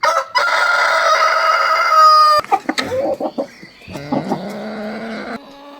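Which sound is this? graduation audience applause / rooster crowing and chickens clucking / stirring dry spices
rooster crowing and chickens clucking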